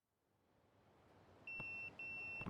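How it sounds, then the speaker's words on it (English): A pager beeps inside the Yakuza 0 video game, sounding two sustained electronic tones in a row with a short gap between them, loud over a quiet, slowly rising ambient background. "That's my beeper."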